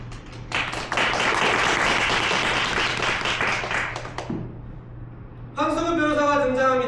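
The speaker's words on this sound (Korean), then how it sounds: "뜨거운 박수로 맞아주십시오." An audience at a staged trial reading contest breaks into dense, steady clapping for several seconds before it stops abruptly, followed by someone speaking over a faint room hum.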